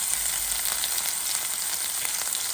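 Mustard seeds crackle and sizzle in hot coconut oil, a dense, steady frying hiss close up with scattered tiny pops and no voices.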